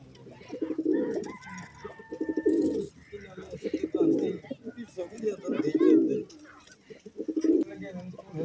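Pigeons coo close by in repeated, throaty bursts while they feed, with several birds overlapping in a steady rhythm.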